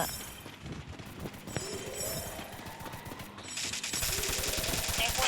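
Gunfire in the video game Free Fire: rapid bursts of shots with bright crackling impacts, growing louder and denser toward the end under faint game noise.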